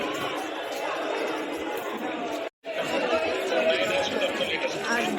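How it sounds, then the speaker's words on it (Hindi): Steady crowd chatter fills the busy market by the Golden Temple in Amritsar, many overlapping voices in a continuous hubbub, with a momentary break midway. "आज भीड़ बहुत है।"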